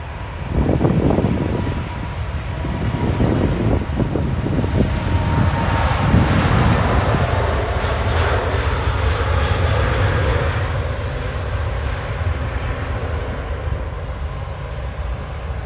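Loud, sustained roar of aircraft engines at Manchester Airport, a broad rumbling wash that swells early and holds steady as a plane passes close by, with no voices.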